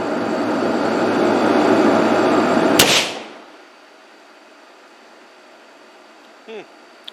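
A single sharp gunshot from a black powder NAA mini revolver, fired outdoors. The crack cuts through loud steady background noise, which then drops away into near quiet.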